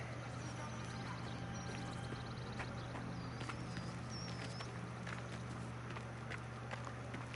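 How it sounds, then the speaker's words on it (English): Footsteps in the video game Mafia: The Old Country patter steadily and quickly over a low constant hum and ambient game background, with faint scattered calls. "I hear footsteps."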